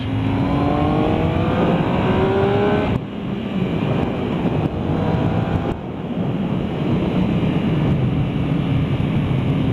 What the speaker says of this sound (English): Has a ton of power, very good acceleration. Woo! Yeah, that is a very, very quick bike.